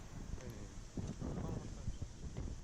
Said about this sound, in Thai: มาถึงก็ลมแรงมากๆ หัวกระเจิงหมดเลยค่ะ